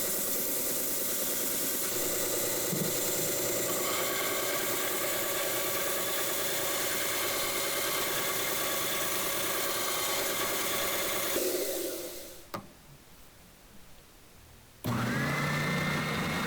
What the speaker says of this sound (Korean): 이 벨트 샌더는 각도를 고정해서 앞쪽을 정리하기 좋게 만들어진 그런 벨트 샌더입니다.